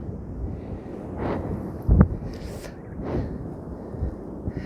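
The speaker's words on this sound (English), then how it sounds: "The wind is insane." Strong gusty wind during a high wind advisory buffets the microphone outdoors, a steady low roar swelling in broad gusts with one sharp thump near the middle, no voices.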